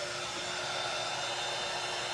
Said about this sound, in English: if you have a blow dryer, the blow dryer will do the same effect if you get enough heat over those wrinkles